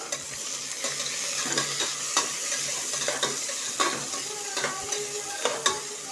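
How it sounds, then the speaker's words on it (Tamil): Onions sizzle steadily in a hot pan while a utensil stirs and scrapes, with scattered clicks against the pan over the frying hiss. "வெங்காயத்தை வதக்கிக்குவோம்."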